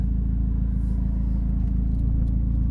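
A 2001 Saab 9-5 Aero, an automatic converted to a 5-speed manual, rumbles from inside the car on the way up Pikes Peak. The low, steady engine drone stays loud and even throughout, with no talking.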